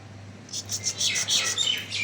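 Small pet birds chirp in a rapid series of bright, high tweets at a steady rhythm, fairly close, over a low steady hum, with no talk.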